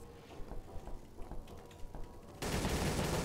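Gunfire in the Garry's Mod game, scattered sharp shots popping at moderate distance, then a dense continuous burst of automatic fire that swells and carries on to the end.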